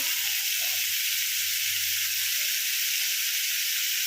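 Small diced potatoes fry in hot oil over raised heat for a pumpkin and fenugreek curry, a steady, even sizzling hiss with a faint low rumble beneath.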